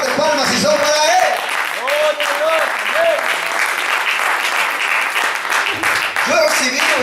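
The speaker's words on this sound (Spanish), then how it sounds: "Denle fuertes palmas si son para Él." A church congregation breaks into loud, sustained applause and clapping that fills the room while a preacher's voice carries over it.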